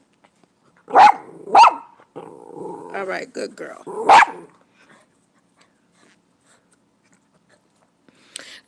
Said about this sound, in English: You hear the doggies? Chocolate right here by me. That's Sandy. That's barking.